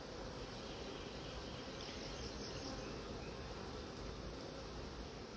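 Honey bees buzz around an opened hive, a dense, continuous, fairly faint hum with no break across the clip.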